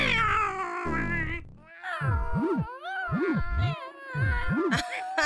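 Animated cats meow and caterwaul in a series of loud, drawn-out wavering cries, several calls in quick succession, heard up close with no talk over them.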